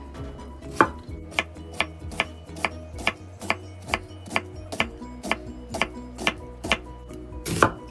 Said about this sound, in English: And you can go ahead and just thinly slice it.